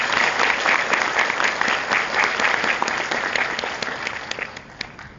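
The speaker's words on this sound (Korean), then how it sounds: "다시 한번 박수 부탁드립니다." Steady applause from an audience at a one-day class, loud and continuous from start to finish, thinning slightly toward the end, with no talking over it.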